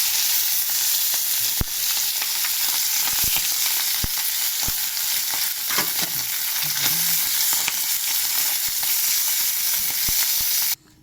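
Pieces of fish frying in oil in a pan, a continuous close hiss and crackle with scattered pops and a brief stir midway, running steadily before cutting off at the end.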